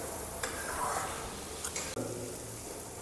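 Onion and masala fry in oil for a fish curry, a steady soft sizzle close by, punctuated by a few stirring scrapes and clicks of a utensil against the pan.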